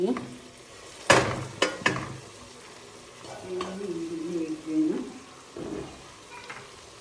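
Green chili, ginger and garlic fry in a pan for pickle, giving a steady close sizzle broken by stirring scrapes and clinks, with a person talking over it.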